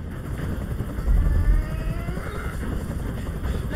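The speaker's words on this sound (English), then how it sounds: "I can't stand that noise anymore. Tell that helicopter to get out of here." A helicopter in the video game Detroit: Become Human drones with a steady low rotor rumble and engine whine, loud and continuous, with a brief swell partway through.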